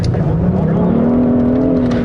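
A Hyundai Sonata N Line accelerates with its virtual engine sound turned up, a steady low baritone drone rising gradually in pitch, loud and continuous from inside the cabin.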